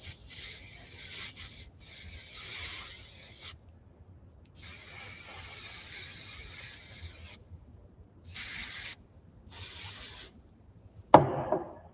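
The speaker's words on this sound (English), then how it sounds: "Pull all my hair forward and give it a good spray for this bottom section." Hairspray hissing from an aerosol can onto hair in several separate bursts, each lasting a second or more with short silent gaps between, close and steady, ending with a brief clatter.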